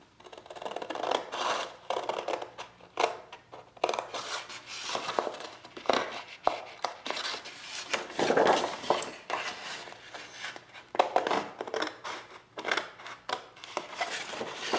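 Scissors snipping paper for a lavender scrapbook album page: a close, quiet run of short crisp cuts and rustling sheets in irregular bursts, with no talking.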